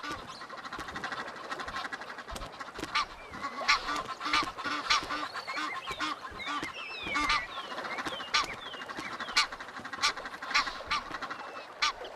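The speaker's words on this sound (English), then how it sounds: "Egyptian geese fight fiercely over boundary disputes, with both sexes involved." Egyptian geese honk and squawk repeatedly at close range in the Serengeti while fighting over territory, harsh calls coming in overlapping bursts over a noisy outdoor background.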